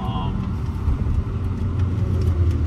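A 2000 Mercedes-Benz SL600 Sport, V12, driving on road: a low, steady engine rumble with tire and road noise, close and continuous, with someone talking over it.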